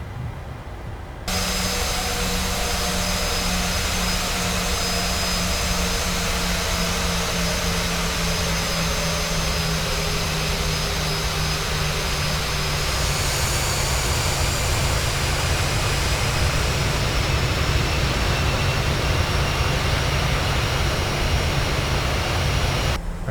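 Delta airliner taking off in Microsoft Flight Simulator, heard from a PMDG 737 holding short at Oakland: a loud, continuous jet-engine roar with a high whine that swells and slowly shifts in pitch as the plane accelerates away.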